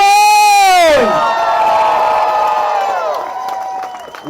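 A crowd at a Rhode Island emergency rally against a Musk government takeover cheers loudly and steadily, following a brief whining tone that sweeps downward at the start, the roar gradually easing toward the end.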